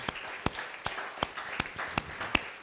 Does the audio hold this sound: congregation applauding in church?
yes